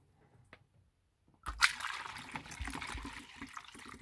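Water is poured by hand through a funnel into a carafe at a camper van, beginning after a short quiet pause with a soft splashing gush that keeps flowing steadily, fairly faint and close.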